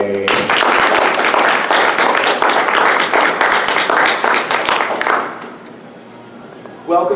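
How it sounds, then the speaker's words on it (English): An audience at a convention talk show applauds loudly and steadily for about five seconds, then the clapping fades to a quiet room before a voice begins. "Let's give a round of applause for Brichibi Cosplay."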